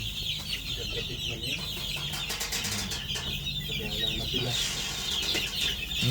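Five-week-old chicks clucking and peeping together in a busy flock, close and continuous, with occasional wing flaps and a voice talking faintly in the background.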